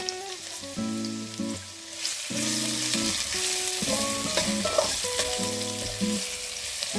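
Garlic frying in spluttering hot oil for brinjal palya crackles and hisses steadily, while a spoon clinks and scrapes against the pan now and then, close up and without talk.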